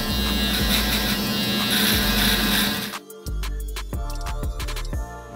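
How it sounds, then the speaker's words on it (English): A barber's FX3 electric shaver buzzes steadily and up close while shaving hair during a taper fade, then switches to shorter, choppier passes with brief pauses. "Shave this with the FX3."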